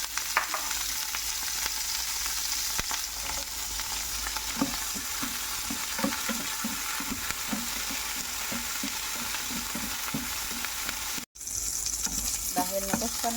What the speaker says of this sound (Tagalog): And then itusta muna natin yung taba.